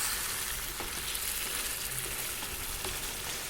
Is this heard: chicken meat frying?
yes